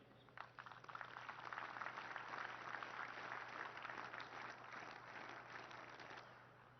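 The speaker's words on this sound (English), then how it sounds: "a big round of applause to the cadets and the drill staffs who made this possible" An audience at a National Defence Academy passing out parade gives sustained applause for the cadets and drill staff, a broad steady clatter of many hands that tapers slightly at the end.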